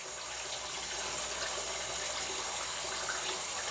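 Cold tap water runs steadily while rice is rinsed in the sink, a continuous, even broadband splashing rush with no talk over it.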